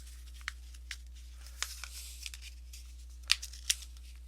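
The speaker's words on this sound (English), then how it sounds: "Okay, I want to cut that one down a lot." Scissors snip through book paper for a paper cone tree, a few crisp, separate cuts and rustles close by over a low steady hum.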